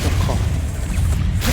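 An explosive Confringo spell is cast in the Hogwarts Legacy video game, producing a loud, continuous low rumbling boom that fills the short moment with dense blast noise.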